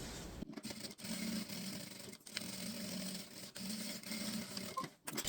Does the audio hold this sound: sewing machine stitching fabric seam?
yes